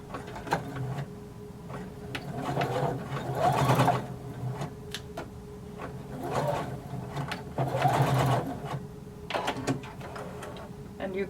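A sewing machine runs in two bursts down a jumpsuit seam toward a marked point, whirring and rattling loudly, then pausing briefly between runs, with faint handling noises in the gaps.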